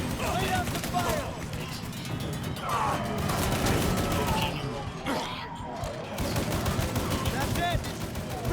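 Heavy gunfire in a video game firefight in Mafia III, sustained automatic bursts and crashing impacts, loud and close, with shouted voices mixed in.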